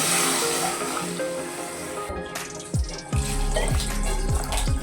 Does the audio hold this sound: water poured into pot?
yes